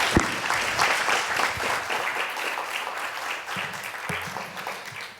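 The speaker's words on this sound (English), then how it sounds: "A big round of applause for our last 2 grantees to chat." Audience applause for grantees at the Social Mobility Lab Summit, a full room clapping steadily for about five seconds, fairly close, with a brief murmur of voices near the end.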